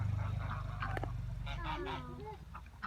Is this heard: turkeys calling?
yes